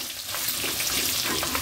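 Sliced onion frying in an oily pan while cooking coriander rice, a loud steady sizzle and crackle with faint stirring, no talk.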